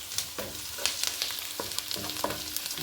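Ground masala paste for coriander leaf rice sizzles in a hot pan. A soft steady fry runs under repeated scraping stirs, close and fairly quiet, with no talking.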